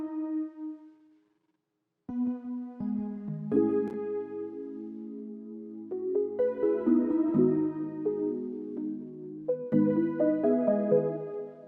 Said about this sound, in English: Then I added this counter melody right here.